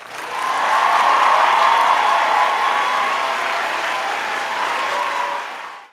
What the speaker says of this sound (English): I'm gonna give her a round of applause.